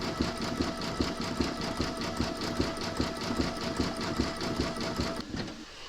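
An embroidery machine stitches a satin stitch border around a coaster, a steady rapid mechanical clatter with regular needle beats, close and even, stopping near the end.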